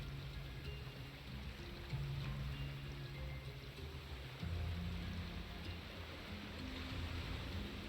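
Steady water wash and surf around a raft at sea in the survival game Raft, a continuous broadband rush with low droning tones underneath, with no voices.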